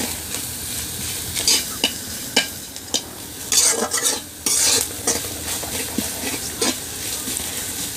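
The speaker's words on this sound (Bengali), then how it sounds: "পেঁয়াজগুলো এখন বাদামি কালার হয়ে আসছে" Onions browning in hot oil hiss loudly in a pan as a spatula stirs them, irregular scraping and clinking strokes cutting through the steady close sizzle, with a busier burst of stirring midway.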